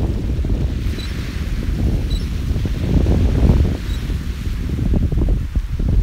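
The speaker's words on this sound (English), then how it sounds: "It's still too windy." Steady wind buffets the microphone with a constant low rumble and roar, like gusty weather on an open beach, with no other clear sounds.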